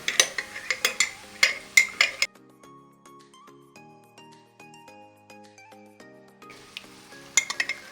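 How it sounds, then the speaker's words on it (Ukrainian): Onion simmering in sour cream sizzles and bubbles in a pan while a utensil clinks and scrapes against it, followed by a stretch of quieter ringing tones before stirring resumes. "Наша цибулька вже підтушилася сметанкою."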